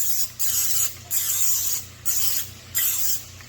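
Non-stick cooking spray hisses from a can into a skillet in four short bursts, each close, loud and about half a second long, with brief pauses between.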